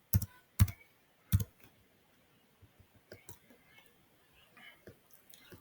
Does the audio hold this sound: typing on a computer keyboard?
yes